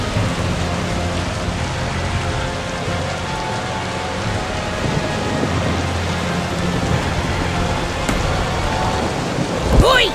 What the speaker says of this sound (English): Once again, a thunderous storm hit the mountains.